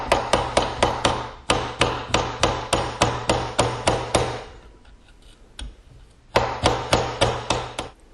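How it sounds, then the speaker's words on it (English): A hammer taps the bolt catch into an AR-15 stripped lower receiver, a steady run of sharp metallic knocks, a brief pause, then another quick series, close and loud. "And finish tapping this in."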